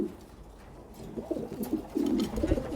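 Young King breed pigeons cooing while preparing a nest: soft, low, throaty coos in short rolling phrases, fairly faint and close, with no talking.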